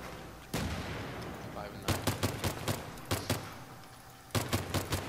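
Pistol shots in the Battlefield 3 video game come in quick clusters, a single crack early and then rapid strings of sharp reports, loud and close, with a faint voice in the gaps.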